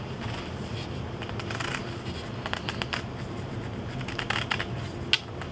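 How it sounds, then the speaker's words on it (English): Duct tape is wrapped once around a PVC pipe. The sound is a steady close rubbing and crinkling with scattered sharp scratchy bursts, and one louder snap near the end. "all I'm doing is wrapping this PVC with one wrap of duct tape on there"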